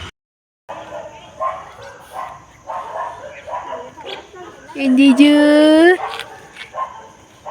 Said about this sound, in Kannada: ಯಾರ್ದು ನಾಯಿಂದ ಗೊತ್ತಿಲ್ಲ ಅಂತೂ ಕ್ಯೂಟ್ ಇದ್ದಾನೆ